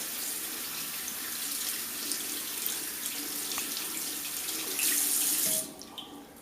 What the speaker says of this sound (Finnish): Käsiä täytyisi pestä noin 15-20 sekuntia juoksevan veden alla.